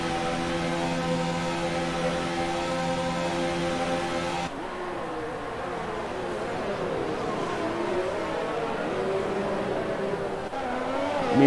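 Race cars roar around the Mexican Grand Prix circuit in a racing video game, a dense steady engine drone with a shifting whine as cars pass, loud and continuous for the whole stretch.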